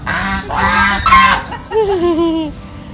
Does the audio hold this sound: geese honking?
yes